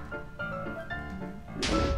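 An explosion bursts in the Minecraft video game, a sudden loud broadband blast arriving partway through after a quieter stretch of game sounds.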